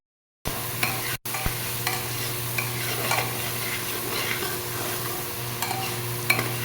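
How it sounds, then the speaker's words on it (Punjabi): Spice mix being stirred into a mixed-vegetable pulao in a pan, a steady scraping and sizzling texture with occasional louder scrapes, close and continuous after a brief pause near the start, with no talking. "ਆਪਾਂ ਹੁਣ ਇਹਨੂੰ ਮਿਕਸ ਕਰ ਲਵਾਂਗੇ ਬਹੁਤ ਹੀ ਵਧੀਆ ਤਰੀਕੇ ਨਾਲ ਮਿਕਸ ਕਰਨਾ ਹੈ"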